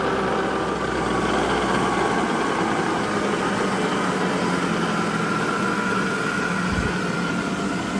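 A Chevalier turret milling machine with variable speed runs near its top speed, giving a steady, loud mechanical hum and whine without let-up and with no talking.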